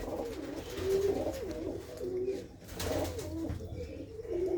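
Pigeons coo softly and repeatedly at close range inside an old fort dating from Maharaja Ranjit Singh's era, their low warbling calls overlapping in a gentle, continuous murmur.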